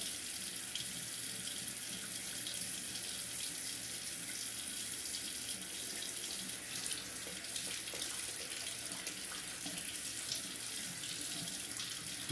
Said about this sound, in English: it's gonna need more water, so